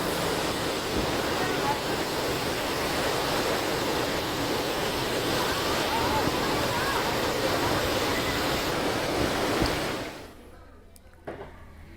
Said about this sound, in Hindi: तस्वीरों में भी आप साफ देख सकते हैं कि बरसाती नाला पूरे उफान पर है